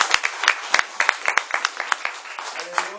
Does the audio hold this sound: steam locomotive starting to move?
no